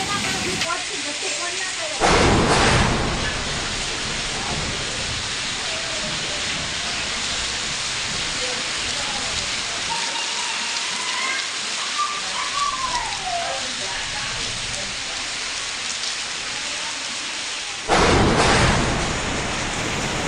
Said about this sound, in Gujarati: આજે વહેલી સવારથી જ પાટણમાં ધોધમાર વરસાદ પડી રહ્યો છે